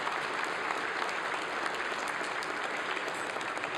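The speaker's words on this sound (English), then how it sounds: "can we give JJ and the crew here a round of applause for putting this together every year?" Sustained applause from an awards show audience, a full, even roar of clapping hands that holds at a constant level throughout.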